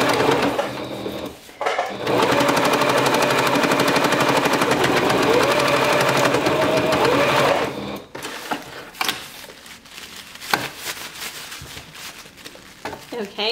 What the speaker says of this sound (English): Now I'm gonna go ahead and sew the opening closed.